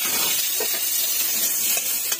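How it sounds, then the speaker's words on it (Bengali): Potato pieces go into a little hot oil left in a wok after cauliflower was fried, raising a steady, loud, broadband sizzling hiss that holds evenly throughout with no voices. "আর কড়াইতে যে অল্প তেল আছে সেই তেলের মধ্যে আমি আলুটা দিয়ে দেবো"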